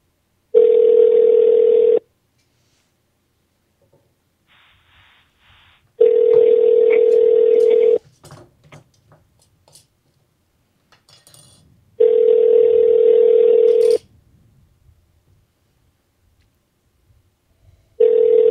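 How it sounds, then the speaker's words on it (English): Telephone call tone repeating in long, even bursts of about two seconds separated by roughly four-second gaps, loud and steady, with a few faint clicks and rustles in between. "All right, I'm calling him."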